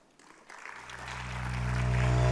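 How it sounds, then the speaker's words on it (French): A conference audience at a round-table event starts applauding, the clapping swelling steadily from quiet to loud while a low sustained tone builds beneath it. "J'appelle sous vos applaudissements les personnes suivantes"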